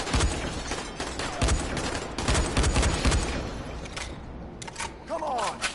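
Rapid gunfire from shooting at an enemy in Dying Light plays in dense, loud bursts with brief gaps, the shots overlapping into a continuous rattle near the end.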